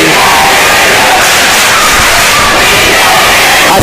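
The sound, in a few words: volleyball home crowd chanting and cheering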